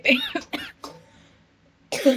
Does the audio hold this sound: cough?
yes